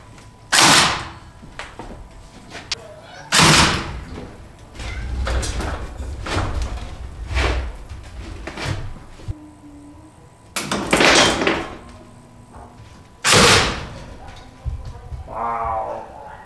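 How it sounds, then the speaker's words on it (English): A staple gun fires into a ceiling joist to fix electrical wire, giving several sharp, loud snaps spaced a few seconds apart, with handling noise and a brief voice between them. "And I'll just staple it into the side."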